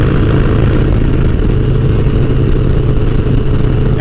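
A Harley-Davidson Dyna motorcycle engine rumbles steadily and loudly at close range throughout a bike trip, a constant low drone with no break.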